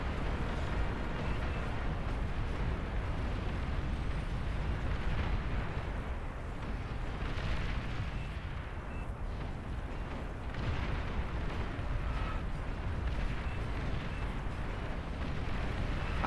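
Battle in the real-time strategy game Beyond All Reason gives a dense, continuous roar of overlapping explosions and artillery booms, steady and fairly loud throughout with no distinct individual blasts.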